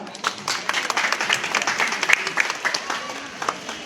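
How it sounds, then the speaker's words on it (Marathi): Party workers give a crowd of applause to honour an MLA at a women's empowerment event: dense, steady clapping from many hands, fairly close, with faint voices mixed in throughout. "सर्व कार्यकर्त्यांनी त्यांचा टाळ्या वाजून सत्कार करावा"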